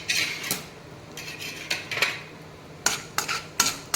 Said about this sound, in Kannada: ಹಸಿ ಶೇಂಗಾ ಹಾಕಿ ಒಂದು 7 ರಿಂದ 8 ಗೋಡಂಬಿ ಇರ್ತದಲ್ಲ, ಗೋಡಂಬಿನ ಹಾಕಿ ಚೆನ್ನಾಗಿ ಫ್ರೈ ಮಾಡ್ಕೊಂಡ್ಬಿಡ್ತೀನಿ